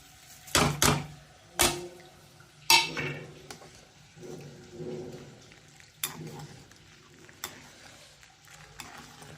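A spoon stirs ghee-roasted semolina into boiling water in a pot, with several sharp clanks against the metal at first, then softer scrapes and bubbling, close by and with no voices.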